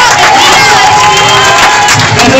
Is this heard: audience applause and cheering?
yes